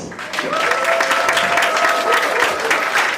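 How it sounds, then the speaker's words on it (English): A book launch audience claps steadily as a speaker comes up to the stage, loud continuous applause with a few voices calling out over it. "Come on, keep clapping until she climbs up here."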